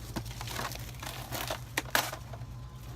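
A plastic seedling container holding a beefsteak tomato plant is cut open, giving close, quiet crinkling and crunching with a few sharper snaps.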